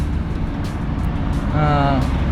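A car cruises along a road in Dubai with a steady low engine and road rumble heard from inside, with a voice speaking briefly over it.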